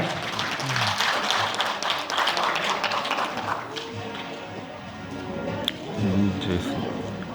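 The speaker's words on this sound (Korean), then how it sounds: "여러분 감사의 박수, 자비의 박수를 보내주시기 바랍니다." Audience applause at a Korean new-intellectual certification and innovation awards ceremony: a diffuse wash of clapping across the first half, fading under room noise and some talk, with a brief louder burst near the end.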